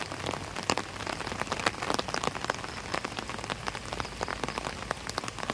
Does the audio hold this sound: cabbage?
no